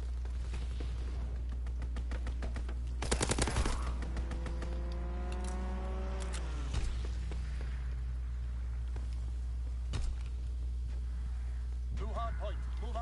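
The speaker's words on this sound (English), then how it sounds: "Strafing run inbound." An aircraft strafing run in a World War II video game: a short burst of rapid gunfire followed by a descending engine whine, with voices talking throughout.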